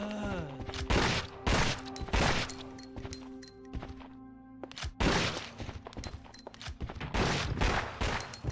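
Gunshots from Sydney's gun in the survival horror game Resident Evil Outbreak File 2, sharp loud bangs fired in an irregular series of about ten over several seconds, with game music and other effects underneath.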